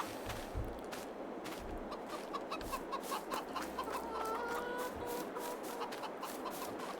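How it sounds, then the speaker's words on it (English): Farm chickens in a video game cluck repeatedly in short, uneven bursts at moderate volume, with soft ambient farm background and no talking. "I check on my chickens."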